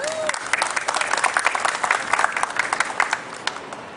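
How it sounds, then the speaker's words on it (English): Applause from a press-conference audience for the Bexar County deputy sheriffs, dense steady clapping across the room with a brief whistle at the start. "Let's give them a round of applause."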